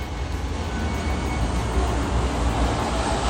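A passing airplane roars steadily overhead as a broad, continuous rumble, loud and even throughout with no voices.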